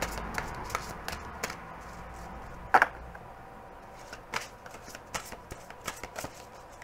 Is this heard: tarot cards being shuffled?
yes